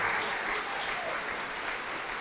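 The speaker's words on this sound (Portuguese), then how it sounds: "Vamos aplaudir ao Senhor Jesus por cada vida que está chegando." Church congregation applauding during a televised evangelical service, a thick, even roll of clapping that carries steadily from start to finish with no talk over it.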